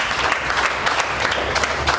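Steady applause from a church congregation fills the space, dense and continuous at close range, with no talk over it.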